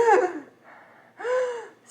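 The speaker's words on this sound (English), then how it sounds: "Now watch, I'm gonna do deep breaths" Two deep, audible breaths taken through a fitted face mask, each a breathy rush separated by a short pause, close and fairly loud.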